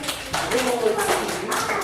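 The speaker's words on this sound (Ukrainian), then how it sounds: "Добре, поплескайте один одному." A group of people clap hands during a children's team competition game, quick scattered claps mixed with voices and background chatter in a lively room.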